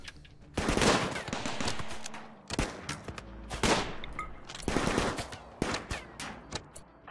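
Turret gunfire in the video game Rimworld crackles in several dense rapid bursts separated by short pauses, fairly loud and up close.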